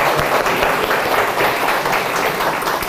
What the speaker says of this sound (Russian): Спасибо, бурные аплодисменты.